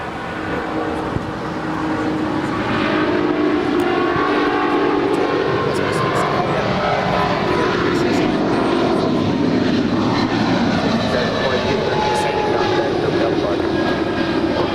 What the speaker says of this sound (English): It's a 777-200ER, now rolling down 25 right.